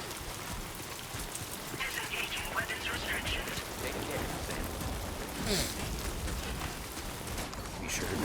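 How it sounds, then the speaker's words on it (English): Steady rain in the video game Death Stranding 2 patters on surfaces throughout, a constant hiss with a few louder splashes and faint voices underneath. "Already raining, huh?"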